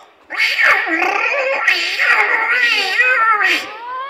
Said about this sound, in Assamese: এটি মেকুৰী পোৱালি